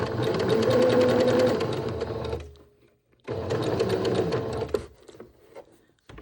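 A sewing machine stitches fabric with elastic thread for shirring, running in two loud, close bursts of rapid mechanical whirring separated by a brief pause.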